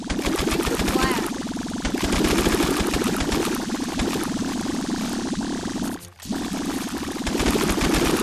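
Rapid gunfire in the VR game Rec Room rattles continuously and loudly, briefly dropping out once before resuming, with a player's voice mixed in.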